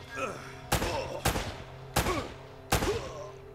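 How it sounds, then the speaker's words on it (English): Four loud, sharp blind-fire gunshots from Uncharted: Drake's Fortune ring out at roughly even intervals, each leaving a short decaying tail over a low game background hum. "Man, blind fire saved the day for once"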